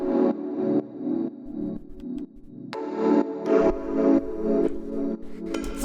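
Rhodes electric piano playing a simple chord progression in a disco house track, warm sustained chords changing every second or so, loud and close with a mellow tone.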